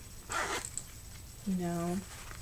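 A short zipper rasp sounds close by on a Filofax planner, followed a moment later by a brief voiced hum; quiet room noise surrounds it.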